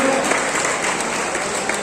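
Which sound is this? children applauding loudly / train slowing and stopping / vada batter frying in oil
children applauding loudly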